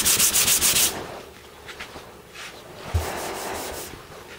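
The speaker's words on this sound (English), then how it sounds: "That's what's on this door right here, and I've been sanding it" Sanding a metal car door by hand-held abrasion: loud scratchy rubbing bursts at first, then quieter, irregular gritty strokes close to the listener.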